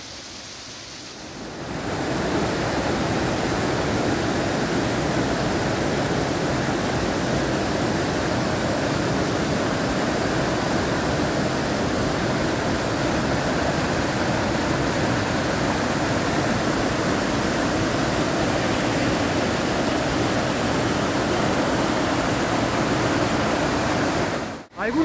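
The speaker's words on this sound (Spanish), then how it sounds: "que los saltos de agua son los fenómenos más maravillosos de la naturaleza" Cascada Doble, a waterfall in Maldonado, Uruguay, pours in a loud, steady broadband roar that rises within the first two seconds and holds unbroken throughout.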